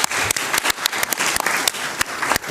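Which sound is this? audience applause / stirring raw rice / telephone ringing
audience applause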